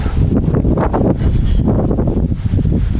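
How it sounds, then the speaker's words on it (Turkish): Strong wind buffets the microphone on the Gürpınar shore in a continuous low, rumbling roar, loud and close throughout with no other sounds standing out. "Rüzgar, acayip bir rüzgar var."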